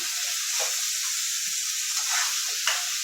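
Minced meat fries in a pan with a continuous, close hissing sizzle, broken now and then by the soft scrape of stirring.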